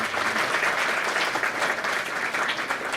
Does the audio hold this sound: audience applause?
yes